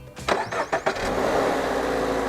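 A boxer flat-four car engine cranks with a few sharp starter bursts, catches, and settles into a steady, throaty idle close by.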